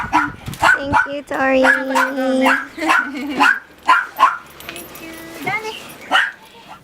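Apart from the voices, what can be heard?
dogs barking and whimpering as they return to the shelter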